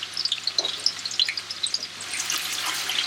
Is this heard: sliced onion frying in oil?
yes